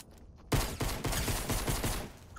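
Gunfire in the video game Fortnite: after a quiet half second, a loud rapid burst of repeated shots rattles on steadily for nearly two seconds, close and without talk.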